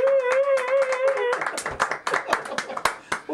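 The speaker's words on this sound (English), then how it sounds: "let's give Chef Linda Dixon a round of applause" A round of applause for a chef at a cooking demonstration: scattered close claps break out under continuing talk, irregular and fairly loud.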